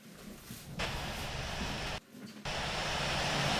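Engine roar of an Airbus A330 cargo plane in a flight simulator game: a steady, loud broadband drone that briefly drops out mid-clip, then returns at full strength.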